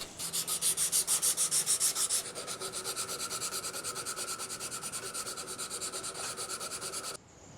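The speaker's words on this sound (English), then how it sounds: "Now I'll do the final sanding of the knife scales" Rapid rhythmic back-and-forth sanding strokes on wooden knife scales, steady and close, continuing for several seconds before stopping abruptly.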